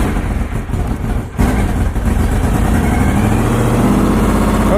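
A Honda VFR motorcycle fitted with a new battery fires up and settles into a loud, steady idle close by, the engine note rough at first and then running evenly to the end.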